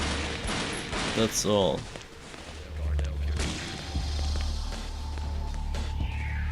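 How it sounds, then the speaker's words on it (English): Gunfire from a player's gun in the video game Shadow Man Remastered, a burst of shots and thuds against a steady low game rumble, with someone briefly talking over it. "I can simply just shoot with my gun."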